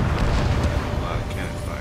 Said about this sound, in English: A lot of cannon fire.